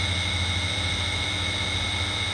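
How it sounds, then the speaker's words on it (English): A water pump motor runs normally with a steady, even hum and faint whine, holding constant throughout at moderate level with no voices. "when you turn the pump on, your pump should sound like this"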